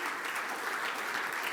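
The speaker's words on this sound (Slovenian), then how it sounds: "Torej še en aplavz" Steady applause from an audience at a Slovenian chamber of commerce innovation awards event, an even patter of clapping heard at moderate distance throughout.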